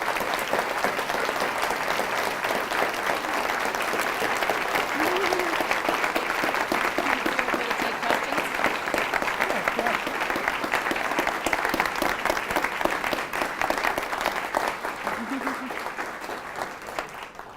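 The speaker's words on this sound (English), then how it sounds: "Joan, I hope you hear that applause as our gratitude for the gift you've just given to all of us." Sustained audience applause fills a business and professional luncheon hall, loud, dense and even for over fifteen seconds, with a voice briefly audible beneath it.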